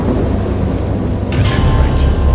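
A stormy scene in the video game Dagon, with heavy continuous rain and deep rolling thunder rumbling throughout, loud and enveloping, with no voice over it.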